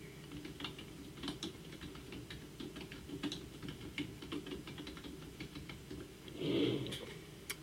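Irregular keystrokes clatter on a computer keyboard at close range, steady clicks for several seconds with a brief louder burst near the end, no voices.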